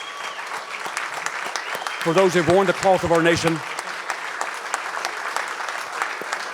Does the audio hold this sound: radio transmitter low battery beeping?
no